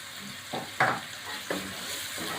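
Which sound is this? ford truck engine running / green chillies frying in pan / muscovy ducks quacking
green chillies frying in pan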